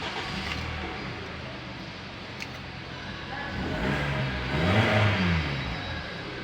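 Hyundai Tucson engine running after a no-start repair, steady idle hum that swells into a couple of moderate revs near the end, heard close in a workshop.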